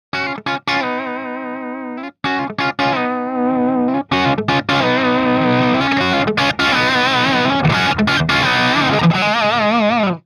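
Overdriven electric guitar through a SonicTone '78 Special British rock tube amp with heavy effects, chorus-like shimmer and distortion, playing sustained chords and melodic lines with brief pauses, loud and close.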